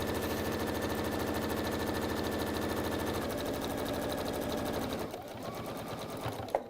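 A sewing machine runs steadily for about five seconds, its fast even stitching loud and close, then slows and stops, leaving a brief quieter stretch with a small clack near the end.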